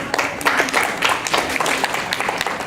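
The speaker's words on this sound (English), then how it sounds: "I really would like to thank them with a round of applause again as well" Applause from an audience at the BanglaRongo 2018 cultural show, a steady wash of many hands clapping at moderate volume with no talk over it.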